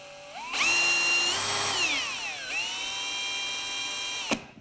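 A RIDGID R86115 brushless 1/2-inch cordless hammer drill with a slightly wobbling chuck whirs up to speed with a high, whining spin, its pitch sliding down and holding steady before it stops.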